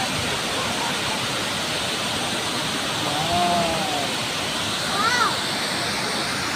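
Steady broadband roar of water rushing over Wawa Dam, a constant loud wash filling the whole clip, with faint voices rising briefly above it twice.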